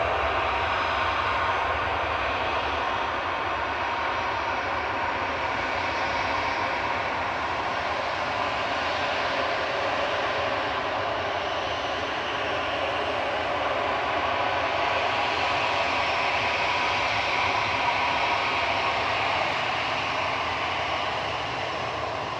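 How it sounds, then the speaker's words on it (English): TUI Boeing 787-9 arriving from Bridgetown touches down at Manchester Airport, a broad, steady jet engine roar that swells and eases slightly over twenty seconds, heard from a distance with no talking. "Touching down from Bridgetown is TUI's 787-9 2EM with flight 125."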